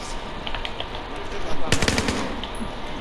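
Rapid automatic gunfire from a weapon in Battlefield 4 crackles loudly in a short burst, with quieter scattered shots before and after amid game background noise.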